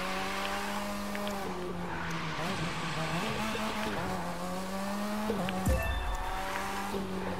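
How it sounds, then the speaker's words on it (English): Car drifting in The Crew 2 racing game at Central Park, with a steady engine drone and continuous tire squeal that rises and shifts with throttle, ending in a brief louder burst near the end. "Still trying to make a good drift to perfection"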